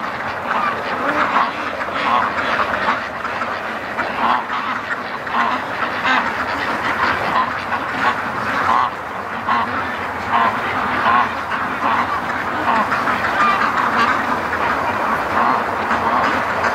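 A Muscovy duck calls at a lakeside, giving repeated rough, breathy calls over a continuous rumbling background, fairly close and loud throughout.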